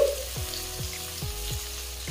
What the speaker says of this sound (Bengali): এবারে এতে দিয়ে দিচ্ছি 1 চামচ কুচনো রসুন। একটু নেড়ে চেড়ে নিচ্ছি।